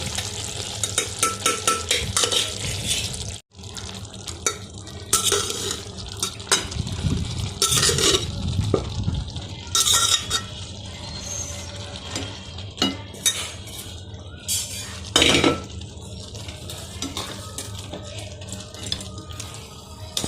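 A spoon scrapes and stirs half-cooked rice into spinach pulao with vegetables in a metal pot, a run of sharp clinks and scraping strokes with soft sizzling between, close and loud, no talk.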